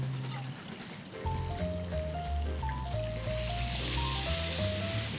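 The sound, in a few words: water poured into a pan with black beans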